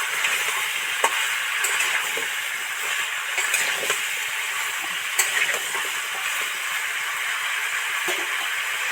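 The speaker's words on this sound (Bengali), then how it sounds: "দিয়ে ভালো করে এখন 5 মিনিট 7 মিনিট ধরে ভালো করে ভাজতে থাকবো" Chunks of potato and pumpkin fry together in hot oil, giving a continuous even sizzle with occasional small pops and stirring clicks, close and moderately loud, with no talking.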